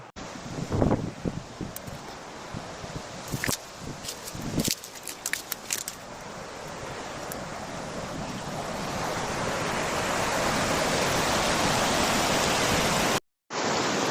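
River water runs and rushes over stones in open countryside, starting as scattered splashes with footsteps and brush rustle, then building into a steady, loud roar near the microphone before a brief cut.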